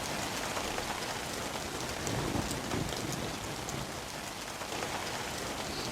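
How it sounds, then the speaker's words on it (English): Steady rainfall in the video game Geneforge 4 patters down evenly, a continuous soft wash of drops with a faint low rumble underneath, no voices. "It started raining."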